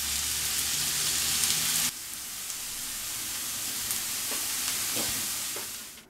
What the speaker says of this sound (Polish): Teraz wleję olej, doprawię ją solą i podsmażę na złoto.